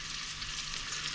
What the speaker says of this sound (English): So now the onions are sizzling.